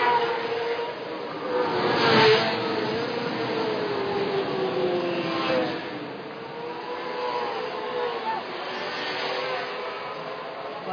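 Standard 4-stroke 250cc motorcycles racing at the Colombo night race, engines droning and whining steadily with passing surges in loudness, a busy continuous roar of several bikes at a distance.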